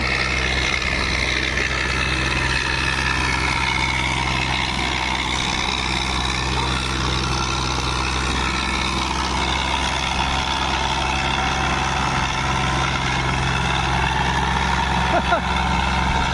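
Tractor engine held at high revs during a strength test between tractors, a steady loud drone with deep low rumble running continuously throughout, with background voices from onlookers.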